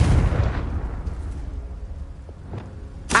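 A Confringo blasting spell explodes in Hogwarts Legacy with a loud, booming burst that rumbles and fades away, followed by a few faint impacts and a sharp crack at the end.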